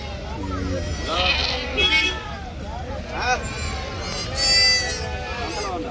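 Several goats bleat repeatedly amid a busy crowd at a goat market in Macherla, with people talking all around and traffic rumbling in the background.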